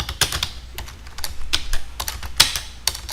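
Fingers typing on a computer keyboard while working in Word 2010, a steady run of close, crisp key clicks with irregular rhythm and a few louder strikes, no voices.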